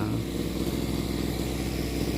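Small grass cutter engine running steadily after a carburetor adjustment for flooding, a close, even buzzing idle with a fast pulsing rhythm.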